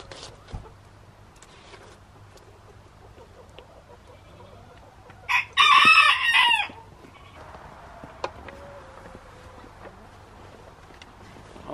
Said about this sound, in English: Hopefully the chickens will come out if I feed them out here.